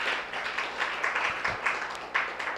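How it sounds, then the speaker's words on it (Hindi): An audience at a diet-system seminar applauding, a moderate, uneven patter of many hands clapping that swells and dips through the short stretch without stopping. "तो ये वीगन कम्युनिटी के लिए जोर से तालियां होनी चाहिए"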